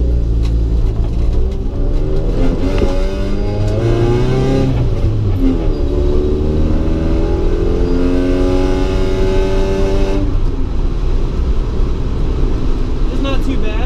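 A 1990 Honda Civic DX fitted with MaXpeedingRods coilovers cruises along a smooth road, giving a steady, loud engine drone from inside the cabin with shifting pitch as it drives. Someone talks over it.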